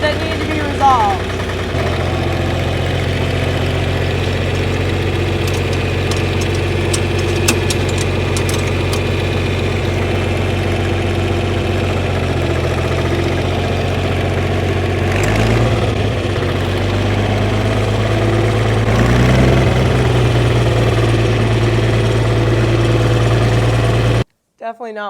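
A 59-year-old tractor engine runs at a steady idle with a deep, even rumble up close; a few clanks and shifts in pitch appear partway through and it cuts off near the end.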